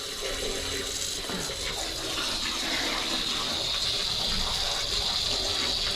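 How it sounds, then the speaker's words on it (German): Water rushing steadily into a toilet refilling under low pressure after a blockage was cleared, a constant loud gushing hiss close by with no pauses. "dauert es länger, bis der voll füllt. Wasser läuft."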